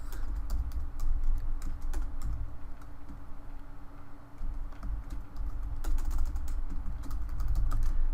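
Rapid clicking of a computer keyboard as a file name is typed in SolidWorks, with bursts of close keystrokes over a low steady background hum, and no talking.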